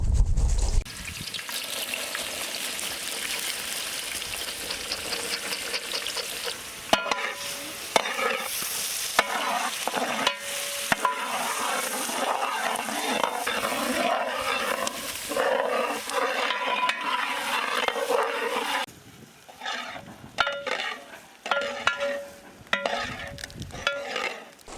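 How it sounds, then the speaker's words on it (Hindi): Finely chopped onions sizzle steadily in hot oil while being stirred in a large pot for a giant fish curry, a constant crackling fry with scraping spoon strokes, close and fairly loud. "ऑयल गर्म होते ही हम लोग इसमें फाइनली चॉप्ड ऑनियंस ऐड करेंगे।"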